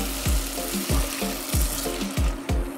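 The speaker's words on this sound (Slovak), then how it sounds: "Tak pridám vodu." Water poured into a pan of sizzling pea risotto with rice, with steady frying sizzle and repeated stirring scrapes at a regular rhythm, close and fairly loud.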